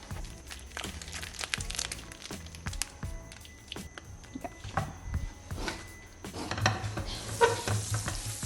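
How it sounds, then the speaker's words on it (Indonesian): Food sautéing in melted margarine in a pan gives a soft sizzle, broken by irregular clinks and scrapes of stirring that grow busier and louder toward the end, with no talking. "kita akan mulai dengan menumis sedikit. pakai margarin."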